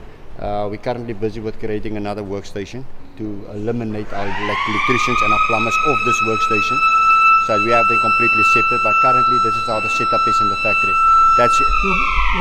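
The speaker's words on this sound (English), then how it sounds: "That's the alarm to bring them back from lunch." A loud, sustained electronic alarm in a boat factory sounds to call workers back from lunch. It is a steady wailing siren tone that starts midway and holds to the end, over someone talking nearby.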